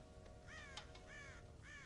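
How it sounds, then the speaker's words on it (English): Crows cawing in the Red Dead Redemption game, raised harsh calls repeating three or four times over a steady low ambient hum, moderately distant and alone without talk. "God damn crows!"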